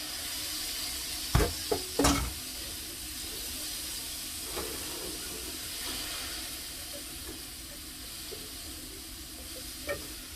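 String beans sautéing in a pan give a faint, steady sizzle and hiss, broken early by a few clinks and stirring knocks, then settling into a quiet continuous frying sound.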